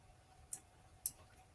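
Two quiet, sharp computer mouse clicks about half a second apart while working in Cricut Design Space, close against a faint background hum.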